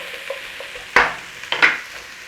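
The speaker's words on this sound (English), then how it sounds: "veg in, onions in, all of it. Little stir fry on all of this." Vegetables and onions stir-fried in a pan for salt and pepper chicken give a low background sizzle broken by two sharp utensil scrapes against the pan, fairly close and without talking.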